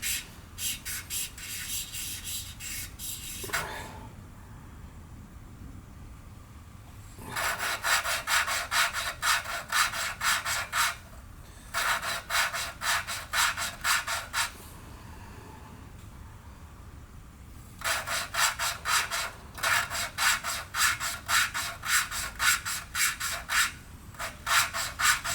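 Engine valves on a 1990 Onan P218 engine are lapped with valve lapping compound, giving loud, rapid rhythmic grinding bursts that last several seconds and are separated by short quiet pauses.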